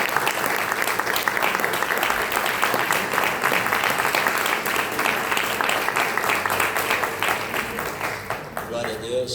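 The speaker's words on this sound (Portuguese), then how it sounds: "dá uma linda salva de palmas bem forte para o Senhor Jesus" A church congregation claps loudly and steadily for about nine seconds, a dense, sustained round of applause that eases off slightly at the end.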